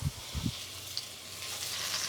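Mushrooms sizzle in olive oil for a mushroom bourguignon, heard as a short, soft, continuous hiss. A couple of low thumps come at the start as they drop into the pan.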